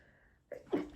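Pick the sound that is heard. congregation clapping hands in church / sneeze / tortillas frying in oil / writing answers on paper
sneeze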